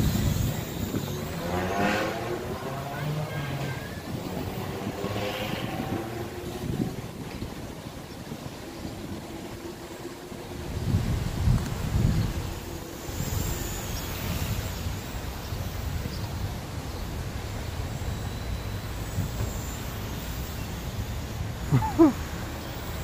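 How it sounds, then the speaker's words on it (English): Wind buffets a microphone outdoors near a stand of trees, a steady low rumble with gusts swelling and fading over about twenty seconds, with no voices heard. "Not helping with the wind though."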